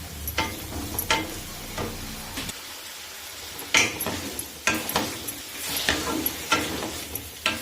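Tomatoes fry in a pan for a Mangalore-style fish curry while a utensil scrapes and clacks against the metal in repeated sharp stirs over a soft background sizzle.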